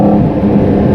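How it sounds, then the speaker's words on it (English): Inside a Porsche 718 GT4 RS Weissach, the engine's induction roars loud and close behind the seats as a dense, steady drone that holds for a second. "And now you have this crazy induction sound 30 centimeters behind your head."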